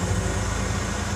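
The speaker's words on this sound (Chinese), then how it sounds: "首先是我们熟悉的柴油引擎" A light truck's diesel engine runs steadily at idle, a continuous low rumble with no break or change in pace, loud and close throughout.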